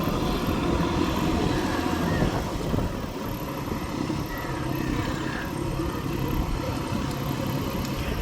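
A tractor with wide front wheels ploughs through deep floodwater, its engine a steady, fairly distant rumble mixed with broad watery rushing, continuous and even throughout with no talk.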